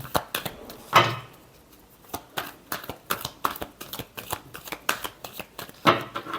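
Playing cards shuffled by hand for a weekly tarot-style horoscope reading, giving repeated crisp riffling bursts and flicks, close and fairly quiet, with no talking over them.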